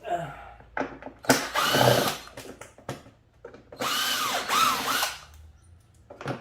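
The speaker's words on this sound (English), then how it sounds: "All you need to do is to take off 1, 2, 3, 4 screws that are T25." A power driver backs out long T25 screws in two bursts of loud whirring with rising and falling pitch, separated by brief pauses and quieter handling sounds.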